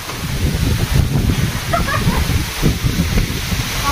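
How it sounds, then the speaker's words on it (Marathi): Heavy cyclone rain and strong storm wind in Sinnar, a continuous rushing roar with gusty buffeting on the microphone and no break throughout. "बापरे वारं खूपच आहे, खतरनाक पाऊस आला आज"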